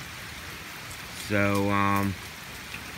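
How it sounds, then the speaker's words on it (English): Steady rain during Tropical Storm Isaias in Aberdeen, Maryland, forms a constant hiss throughout, briefly overlaid by a short voiced tone in the middle. "I can tell the rain and wind has picked up a little bit lately."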